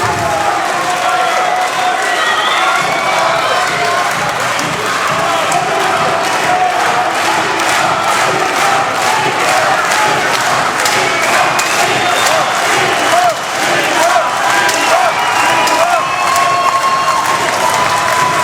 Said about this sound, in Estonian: Kümne sekundi märguanne mattus publiku